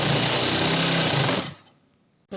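Sewing machine stitching the center seam of a trouser cuff, a fast, loud, close mechanical whirr running steadily before it stops abruptly, leaving near silence and a brief final clunk.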